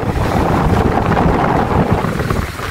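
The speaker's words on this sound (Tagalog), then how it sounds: "Parang ang lakas ng alon na ito ah" Strong ocean surf at Warilla Beach roars as a loud, continuous wash of breaking waves, mixed with heavy wind buffeting the microphone.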